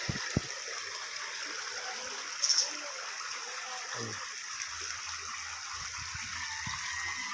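Overflowing creek swollen after a half hour of heavy rain, water rushing in a steady broadband wash, with a brief splash and faint voices in the background.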